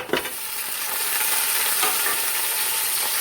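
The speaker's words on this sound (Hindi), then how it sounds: "इसमें पाए शामिल करके तो उनको फ्राई करना है" Beef trotters (paya) fry in a pot with a steady, even sizzle that holds at moderate loudness, opening with a brief stirring clatter.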